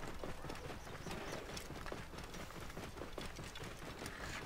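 Camel footsteps in the video game Assassin's Creed Origins, a faint, steady rhythmic padding of hooves moving through a city, continuous and quiet with no voices over it.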